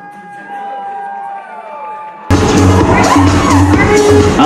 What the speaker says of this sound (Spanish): vamos a recibir a los novios con un fuerte aplauso y un grito, señores